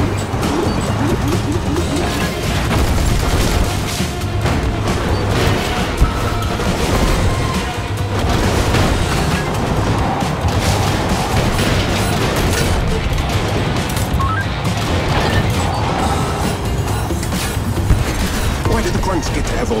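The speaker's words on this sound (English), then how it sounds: "Rockets incoming!" Rocket blasts in the action game Agent Intercept pound out in a dense, loud barrage of crashing booms and impacts, running without a break beneath a busy, layered mix.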